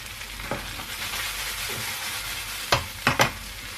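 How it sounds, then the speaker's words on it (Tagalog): Beef and liver stir fry crackles in a pan with a steady background sizzle, punctuated by a few sharp spatula scrapes and knocks near the end, no voices. "Yung stir fry natin na with liver."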